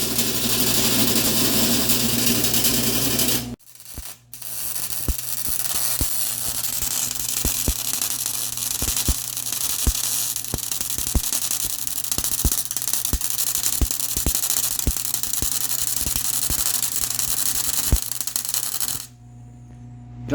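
A wire-feed welder lays a bead, a steady crackling buzz with sharp periodic pops, close and loud, starting and stopping abruptly with a brief pause near the start and a cutoff near the end.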